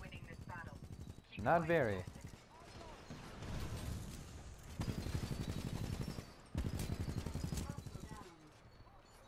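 Monarch titan's heavy gun firing at a pilot in Titanfall 2, rapid bursts of automatic shots rattling in several stretches, with someone talking over and between them.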